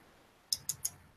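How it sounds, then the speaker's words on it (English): Three quick, crisp keystrokes on a computer keyboard, evenly spaced in a short burst against a quiet background. "Ashley, since you're typing. Oh, you can hear her"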